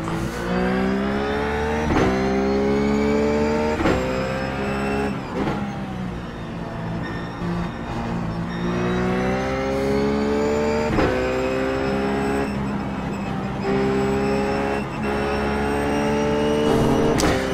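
A Ruf GT3 race car engine in iRacing at Zandvoort, roaring loudly and continuously as it climbs through the revs and drops sharply at each gear change, repeated over a long stretch of lapping.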